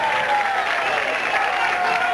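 Lively stadium crowd at a 1990 South Carolina state championship baseball game, a dense, continuous wash of cheering and clapping at close range, steady throughout with no break.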